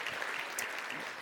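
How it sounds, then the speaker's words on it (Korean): Audience applause at an entrepreneurship concert with a seated studio audience, a brief, even wash of clapping at moderate level with no voices over it. "다시 한번 큰 박수 부탁드립니다"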